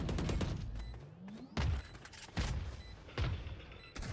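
Missile launched in a first-person shooter match, heard as a whooshing launch followed by a string of heavy booming blasts and gunfire bursts, loud and close, repeating roughly every second.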